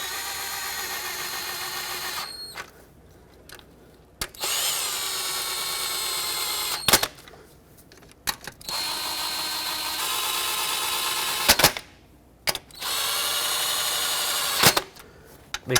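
A power tool snugs the knock sensor bolts on a 2011-2019 Ford Explorer engine, whirring in several loud bursts of a few seconds each with short quiet gaps between, close up and with no talk.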